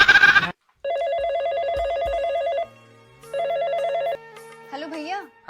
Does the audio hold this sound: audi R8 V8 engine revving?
no